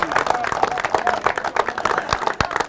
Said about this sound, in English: give a big round of applause to her